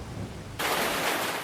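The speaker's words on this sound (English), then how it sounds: "And actually ended up hailing." Simulated hail and a thunderstorm on a Montana farm in the Farming Simulator video game, heard as a steady rushing wash that suddenly swells into a loud, dense roar of pelting hail and rain. No one speaks.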